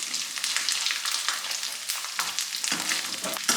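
Coconut pieces fry in hot ghee for a wheat payasam, a close, busy crackling sizzle with occasional stirring scrapes and no voices.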